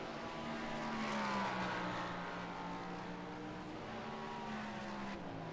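An IMSA race car in a sim racing game, heard from the cockpit view, with an engine droning and shifting pitch as revs rise and fall, a steady mechanical hum filling the space without talk.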